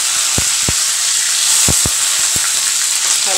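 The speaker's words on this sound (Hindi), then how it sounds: "हरी मिर्च जीरे से छोंकूंगी और थोड़े से मैंने कड़ी पत्ते लिए हैं" Cumin, curry leaves and green chillies sizzle in hot oil, a steady close frying hiss broken by a few sharp pops and crackles.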